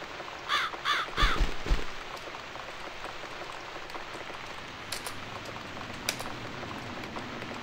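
A crow in The Cat Lady game gives three quick harsh caws near the start, then falls silent under a steady patter of rain with a few scattered knocks.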